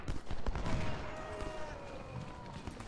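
Musket volleys in the video game Ultimate General: Civil War, a moderately loud crackle of overlapping shots that rolls on continuously with a low rumble underneath.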